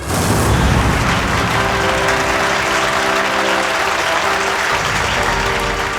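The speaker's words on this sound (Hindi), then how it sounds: "ऑडियंस इसलिए तालियां बजा रही है क्योंकि सस्ते में टिकट बांटे हैं" Sustained audience applause at a magic show, a dense, steady wash of clapping that fills the whole stretch at a loud, even level, with a faint musical tone running underneath.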